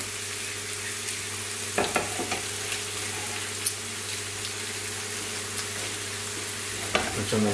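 Hamburger meat fries in a pan in a home kitchen, a steady loud sizzle with occasional clinks and stirring knocks over it.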